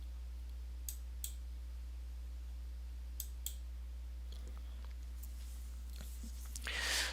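Sharp, faint computer mouse clicks sound in pairs, about four clicks spread over several seconds, against a steady low electrical hum while navigating CMMS maintenance software, with a brief louder rustle at the end.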